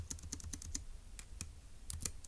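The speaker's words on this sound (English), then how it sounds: "let's go ahead and type that up in our notes" Typing notes on a computer keyboard, a quick irregular patter of light key clicks close up, with no talk.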